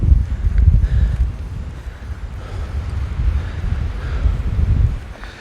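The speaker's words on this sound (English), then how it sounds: "it is windy and foggy" Wind buffets the microphone on a foggy Appalachian Trail mountainside, a loud, low rumbling roar that surges and eases in gusts throughout.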